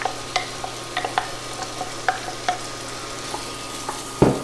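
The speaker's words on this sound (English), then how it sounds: "So the butter's melting and sizzling. I'm gonna dump the onions in." Onions frying in melted butter in a soup pot, with a low, steady sizzle under scattered light clinks and taps of stirring, ending in a heavier knock, close and without talk.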